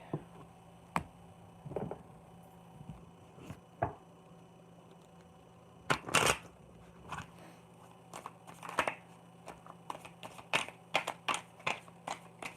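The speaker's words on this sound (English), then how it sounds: "I don't even know how to shuffle anymore" Soft papery shuffling of tarot cards with scattered clicks and crisp snaps, irregular and close, in a quiet room with a low steady hum beneath.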